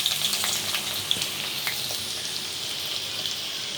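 Onions hit hot sesame oil with fenugreek seeds, making a steady, close sizzle with a bright hiss and a few small crackles and pops, no voices over it.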